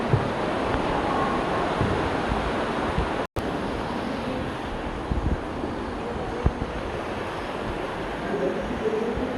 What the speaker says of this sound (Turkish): Su hayat vermeye doğru özgürce akıyor.